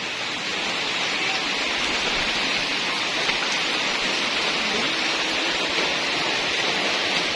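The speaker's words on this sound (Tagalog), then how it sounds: "Sana naman mag-stop din ang ulan para hindi makadagdag sa tubig." Steady, dense rain pours down in a flooded area where a creek has overflowed, giving an unbroken close hiss from start to finish with no talking.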